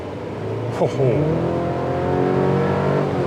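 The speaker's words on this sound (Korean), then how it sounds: "대단히 박력 있는 그런 엔진 사운드를 들려주고 있습니다" A third-generation Chevrolet Colorado pickup's 2.7-litre turbo four-cylinder engine drones steadily up close, accelerating with a brief swooping whine, while a voice talks over it.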